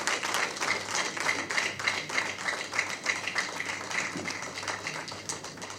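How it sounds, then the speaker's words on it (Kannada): An audience claps steadily at a Kannada movie title and poster launch event, a dense, sustained round of applause at moderate volume with no talking over it. "ಬರಲಿ ಜೋರು ಚಪ್ಪಾಳೆ."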